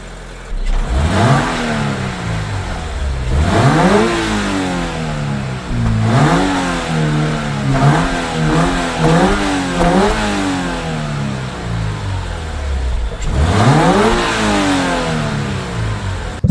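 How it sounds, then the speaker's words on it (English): A Toyota GR86/Subaru BRZ on its stock exhaust, revved up from idle in several sharp bursts, then a quick run of shorter blips before one last big rev. Up close and loud, with no talking. "now I'm gonna give you guys the before clip of the stock exhaust"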